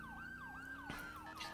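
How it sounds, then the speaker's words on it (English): A police siren from a roleplay video game wails in a continuous, rising-and-falling pattern, loud and alone, with a brief burst of another noise partway through. "on my whatchamacallit sirens right now. On our sirens that I have in my game files"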